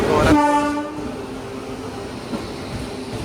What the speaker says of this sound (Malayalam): നമ്മളെ ട്രെയിൻ വന്നിട്ടുണ്ട്